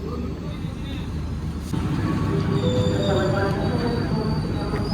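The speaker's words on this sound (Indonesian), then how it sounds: "Kereta api Mataram dari Solo balapan" Mataram passenger train at Solo Balapan station, rolling with a low rumble that grows louder partway through, with thin metallic wheel squeals and tones above, and people talking nearby.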